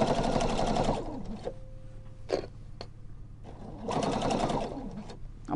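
Sewing machine stitching a two-sided plush vest at a long 4.5 mm stitch length: two rapid whirring bursts of stitching, separated by a quiet pause with a few clicks and handling noises.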